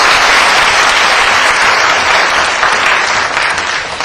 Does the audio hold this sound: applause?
yes